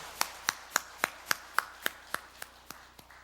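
Congregation at a Sunday worship service clapping in thanks, with about a dozen sharp claps in a steady, even rhythm that fade slightly toward the end. No one speaks over them.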